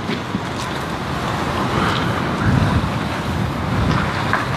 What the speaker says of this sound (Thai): โอ้ลมเต็มๆเป็นท่อลมเลย